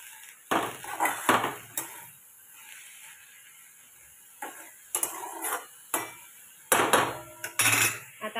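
Spoon scraping and clinking against a pot while stirring salted vegetable curry, irregular bursts of metallic knocks separated by quiet pauses, close and clear.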